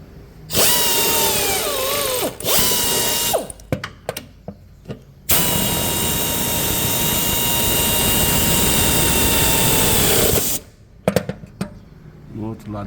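A power tool, likely an impact wrench, tightens the new suspension bushings on a Ford Ka, firing in a long sustained whine with shorter bursts before and after. Brief bits of work noise fill the gaps between runs.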